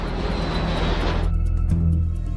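Engines of a Tupolev 134 jet airliner, a loud continuous roar with a droning low hum, shifting as a high whine fades and steady low tones take over partway through.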